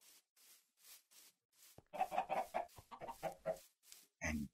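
Minecraft chickens clucking in short repeated bursts, a run of close, busy clucks in the middle and a few softer calls around it, with no talking.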